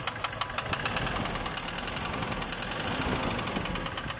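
A Nissan Urvan NV350 van engine with about 45,000 km idles steadily with a rough, knocking clatter running through it, close and fairly loud, with no voices.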